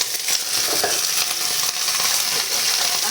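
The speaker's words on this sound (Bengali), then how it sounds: "তেল দিয়ে নিলাম, এবার ডাঁটাগুলো দিয়ে দিই," Vegetable stems fry in hot oil with a loud, dense, continuous sizzle and crackle, close up and steady for the whole stretch.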